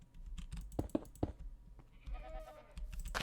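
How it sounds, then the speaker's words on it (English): Goats in the Minecraft video game bleat in a few quick wavering calls near the end, following scattered clicks and taps like keyboard typing. "The goats."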